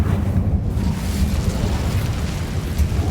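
The Incendio fire spell in Hogwarts Legacy lets out a loud, roaring whoosh of flame that bursts and rumbles steadily for a few seconds.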